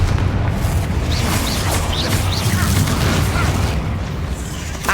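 Repeated Confringo explosive spell blasts in Hogwarts Legacy during a fight with spiders, dense booming and rumbling impacts with whooshing bursts that keep up a loud, continuous barrage.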